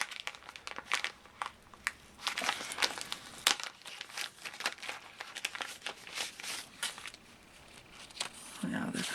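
A thin plastic bag holding lace-style paper craft stickers crinkles in irregular close, quiet bursts as it is handled, with soft talking in the background.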